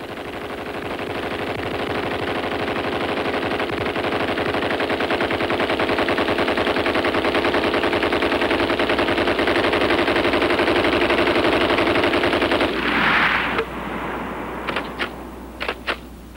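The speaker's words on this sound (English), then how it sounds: "Even today, the Browning machine guns are part of the U.S. military armaments and are also in use in many other countries." Browning machine guns firing in long sustained automatic bursts, a dense rapid rattle that runs loud for about twelve seconds before cutting off, followed by a few scattered sharp reports.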